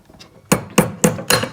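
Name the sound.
hammering a metal wide band ring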